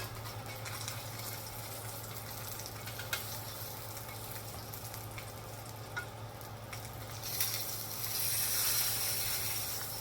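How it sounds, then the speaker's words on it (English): A salmon fillet sizzles in a pan as it is flipped, a faint steady crackle with a few small clicks, then a louder hiss swelling near the end. "Now I'm going to flip this piece of salmon over."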